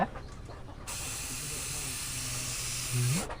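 Gas hisses steadily from a faulty regulator on a cooking gas cylinder in a home. The hiss comes in suddenly, stays close and loud for several seconds, and then cuts off.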